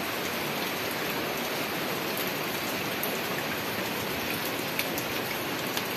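Steady heavy rain falling on surfaces on Christmas Day, with floodwater rising, a constant dense hiss with scattered drops, uninterrupted throughout.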